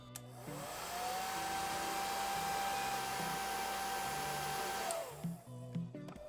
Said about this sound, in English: Using the hairdryer for a little bit of heat